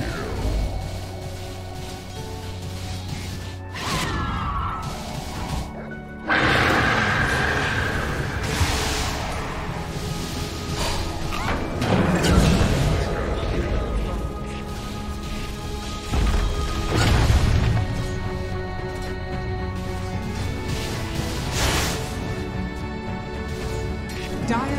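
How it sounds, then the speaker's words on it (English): Repeated heavy smashing and crashing blows from an attack on the Dire top barracks in Dota 2, with sharp impacts scattered through a busy, layered game soundscape that swells and drops over about twenty-five seconds. "Dire's top barracks are under attack."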